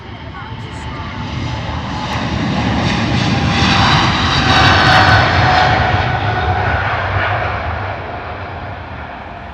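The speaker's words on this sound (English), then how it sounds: "Emirates A380 just on its way in" An Emirates Airbus A380 comes in to land at Heathrow, a loud, steady jet roar that swells to a peak midway and then eases slightly, with no break throughout.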